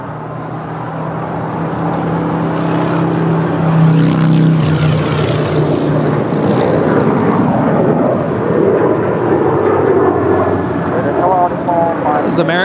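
An ANA Boeing 777-300ER departs LAX with a loud, rumbling engine roar that swells and stays broad and sustained, heard from a moderate distance with steady wind-like noise and no talking.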